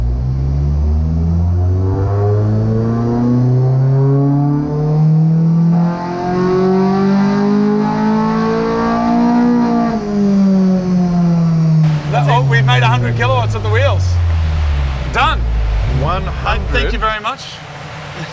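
A Mini fitted with a Honda VTEC engine roars on a dyno during a power run, its pitch climbing steadily to a high-rev peak and then sliding back down; faint voices are heard near the end.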